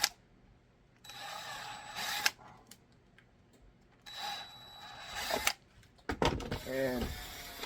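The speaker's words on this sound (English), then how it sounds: "we're taking our 1/4 inch drill bit, and we're going to just drill the pilot holes larger" Mechanical whirring bursts of a drill press with a 1/4 inch bit enlarging pilot holes in a holster, several separate runs with quiet gaps between, close by, ending in clattering handling noise.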